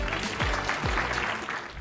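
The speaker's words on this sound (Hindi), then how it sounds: "इनके लिए तालियां बनती हैं।" Steady applause from an audience fills the whole stretch, dense and continuous, with a voice briefly audible underneath.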